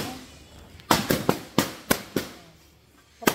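Sharp New Year's firecracker bangs pop in a quick irregular burst of about eight, loud and close, with a final crack after a short pause.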